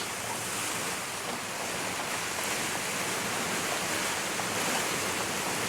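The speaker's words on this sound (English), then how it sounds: "when the wind blows these palm trees, it's kind of pretty" Wind blowing through palm trees outdoors by a porch, a constant loud broadband rushing hiss of gusts and rustling fronds with no pauses, no voices.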